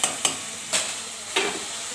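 Vegetables sautéed in a pan with turmeric, stirred with a few sharp scrapes of a utensil over a steady close sizzle, no voices.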